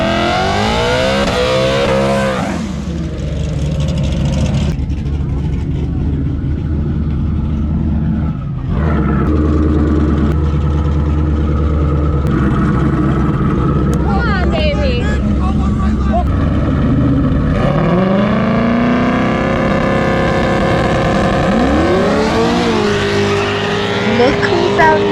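A race car engine revs and roars as it is driven on the street, loud and close with rising and falling pitch sweeps and bursts of acceleration, and people talking over it at times.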